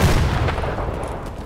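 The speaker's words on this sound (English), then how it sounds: "Is that a second grenade from you?" A grenade explosion in a woods firefight: a loud, dense boom that rolls and decays over about a second and a half with no talking.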